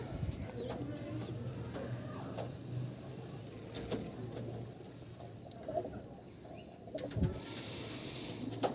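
Soft, low pigeon coos from a flock of Howrah fancy pigeons, repeated under a busy background of chirps, rustling and occasional wing flutters.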